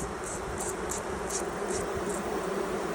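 Honeybees buzzing around a hive being set up in Alaska in April, a steady insect drone with faint high chirps pulsing every half second or so.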